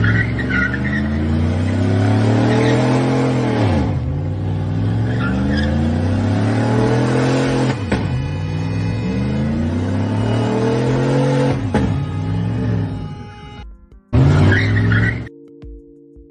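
A car doing burnouts in an intersection revs hard in repeated surges, each climbing then dropping off, with tire squeal and skidding under the engine noise, played back loudly before cutting out abruptly near the end.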